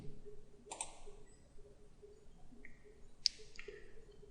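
Several sparse, crisp mouse clicks in Autodesk Inventor 3D CAD work, spaced irregularly over a quiet background hum, fairly soft and close.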